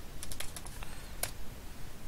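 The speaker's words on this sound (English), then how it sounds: "My keyboard is quite noisy" A noisy computer keyboard is typed on at close range, a string of quick sharp key clicks in an uneven rhythm over a low background hum.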